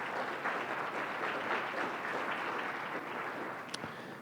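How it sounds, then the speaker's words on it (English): Steady applause from a sizable conference audience at a closing plenary fills the whole stretch, a dense even wash of clapping that fades slightly at the end. "Let's just give them all a round of applause,"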